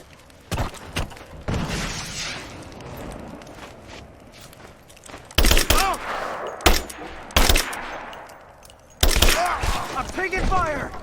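Sharp bursts of gunfire in Rise of the Tomb Raider crack out in three loud clusters over a rumbling combat backdrop, with shouting voices in between.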